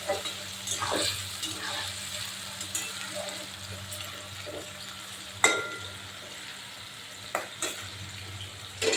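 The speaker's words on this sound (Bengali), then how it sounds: "আলুটা ভালো করে পেঁয়াজ দিয়ে লঙ্কা আর জিরে ফোড়নের সঙ্গে ভালো করে পেঁয়াজটা ভেজে নেব" Onions and potatoes fry in oil with green chilli and cumin, a steady close sizzle with scattered scraping stirs and clicks of the utensil against the pan.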